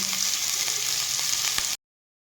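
Whole cumin seeds, grated carrot and chopped green chili sizzle in hot oil for a semolina breakfast dish: a steady, close, bright frying hiss lasting under two seconds, then sudden silence.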